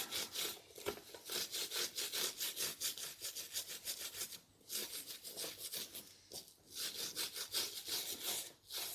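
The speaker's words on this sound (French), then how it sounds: "un petit peu de liquide vaisselle. On brosse, on fait mousser et là on dégraisse." A brush scrubs a remote control's soft keypad with dish soap in quick, close back-and-forth strokes, a rhythmic bristly rasping with brief pauses between bursts.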